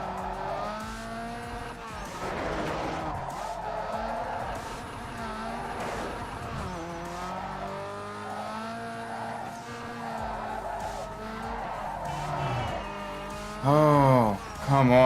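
In Need for Speed Underground 2, a car drifts with long, wavering tire squeals over a revving engine that rise and fall through repeated slides, and a louder skid at the end, while a voice talks over the game sound.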